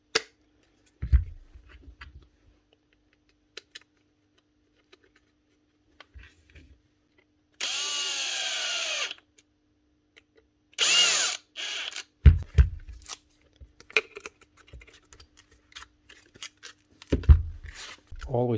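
A repaired power sander fitted with a sanding pad is test run in a repair workshop, with short whirring bursts of the motor between clicks, handling noises and someone talking.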